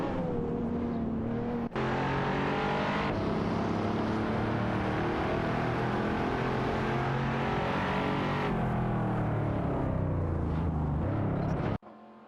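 A Mercedes-Benz SL65 AMG and a Ferrari Portofino battling in a racing game, a steady high-revving engine drone with shifting harmonic pitch and gear-change breaks, loud and continuous, cutting off abruptly at the end.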